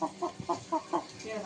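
A rooster clucking close by in a rapid series of short, throaty calls, fairly quiet against a soft background.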